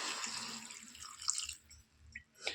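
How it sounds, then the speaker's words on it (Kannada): Water trickles and drips as it is poured into a gram flour curry mixture for a field bean palya, close and fairly quiet, with a brief splashy pour that fades out and then resumes near the end. "ಸ್ವಲ್ಪ ಇದಕ್ಕೆ ನೀರನ್ನು ಆ್ಯಡ್ ಮಾಡ್ಕೊಳ್ಳಿ"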